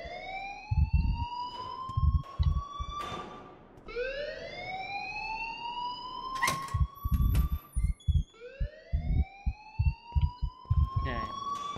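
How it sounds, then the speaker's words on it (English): An electronic alarm wails in repeated rising sweeps in the game Life Is Strange, loud and sustained across the clip, with rapid thumping beats and clicks underneath. "please turn off that alarm"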